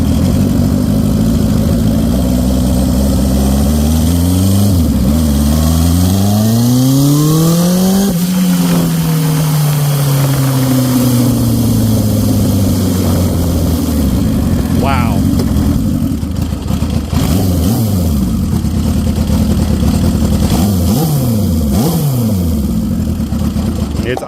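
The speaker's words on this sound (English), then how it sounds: "It's idling, yeah, idling super low." A tuned Honda CB750 Turbo motorcycle engine idles low and loud up close, its note rising and falling as the throttle is blipped several times, with someone talking over it.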